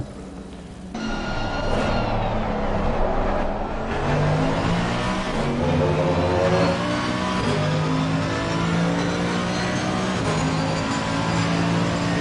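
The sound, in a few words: race cars driving in video game Assetto Corsa Competizione at Spa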